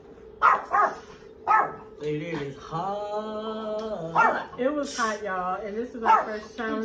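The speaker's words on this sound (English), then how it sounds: "When he's in here, he barks." A dog barking indoors, sharp repeated barks scattered through the clip, coming in short bursts over and between a person talking.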